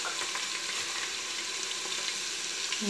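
Browned onions fry in a pan for daal mash, giving a steady, soft sizzle and crackle that runs throughout with faint stirring scrapes.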